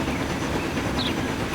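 Long train in Transport Fever 2 rolling along rails, a steady rumbling run with faint rhythmic wheel clatter, continuous and fairly close.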